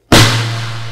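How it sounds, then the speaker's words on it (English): A single sharp hit on a fat 7 by 14 inch snare drum is followed by a full, ringing sustain that slowly decays over about a second, heard close and alone. "So this snare sounds like this."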